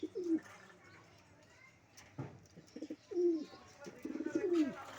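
Running pigeons, an Afsan grizzle beauty pair with a new chick, coo in several throaty, rolling bursts at close range, with quieter bird chirps and faint background voices between the calls.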